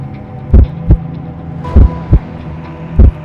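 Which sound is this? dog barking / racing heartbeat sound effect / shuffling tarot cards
racing heartbeat sound effect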